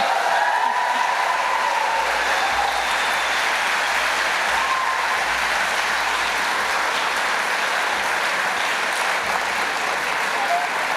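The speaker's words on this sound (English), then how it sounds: "I want to keep the applause going." Sustained, steady applause from an audience at a literary awards ceremony, a dense even wash of clapping that fills the whole stretch without letup.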